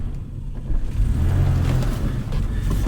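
A barn-find BMW E34 car driving, with a steady low engine rumble and road noise that swells slightly partway through, heard from close by with no talking.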